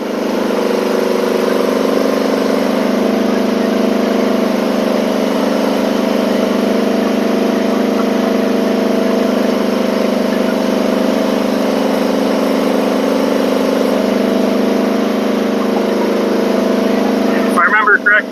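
A 2025 Rippa R10 Eco mini excavator engine runs at half throttle, a loud, steady drone that holds evenly throughout with no talking over it.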